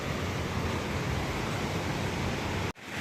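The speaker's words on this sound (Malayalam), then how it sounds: "നല്ല ഒരു പവറിൽ വെള്ളം വീഴുന്ന ഒരു സൗണ്ട് കേൾക്കാം" A powerful waterfall roars from a distance near an abandoned factory, a steady broadband rush of falling water that holds constant throughout before a brief dip at the very end.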